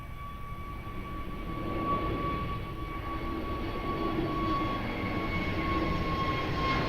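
Airliner taking off at Lisbon Airport, a distant swelling jet roar with a steady high tonal whine, fairly faint and continuous.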